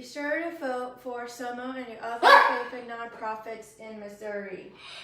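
A house dog barks a few short times in a home setting, partly buried under steady talk from a person speaking close to the microphone.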